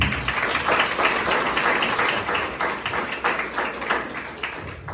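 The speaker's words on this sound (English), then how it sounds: "please give him a round of applause." Audience applause at a business-principles masterclass with Njabulo James, a steady wash of many hands clapping together, filling the room for about five seconds and tapering slightly toward the end.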